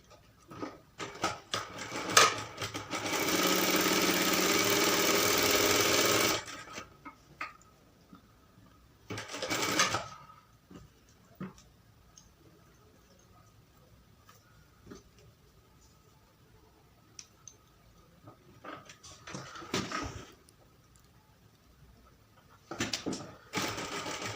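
Domestic sewing machine stitching a seam on a maxi dress: a sustained whirring run of a few seconds, then short bursts of stitching separated by quiet handling and small clicks, close and moderately loud.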